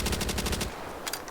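Rapid burst of Thompson submachine gun fire from the World War II shooter game World at War, a dense rattling volley for about half a second, followed by a brief pause and a short second burst.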